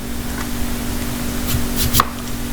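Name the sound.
knife cutting green apples into small pieces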